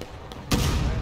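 A cannon fires in the Civil War game War of Rights, a single loud, sudden boom after brief quiet, with the roar sustaining to the end.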